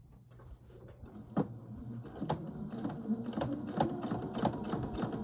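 A sewing machine stitches a velvet princess gown in short bursts, its needle clatter starting and stopping with sharp clicks, close and fairly quiet, with no talking.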